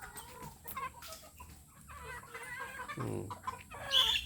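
Chickens cluck and squawk nearby in a noisy farmyard with a rooster, scattered calls overlapping and one louder burst near the end.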